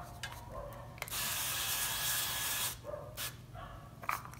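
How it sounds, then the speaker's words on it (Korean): Olive oil spritzed from a spray bottle over coconut shrimp before roasting: one steady, close hiss lasting about a second and a half, with faint clinks and handling noises around it. "올리브오일 뿌리고요."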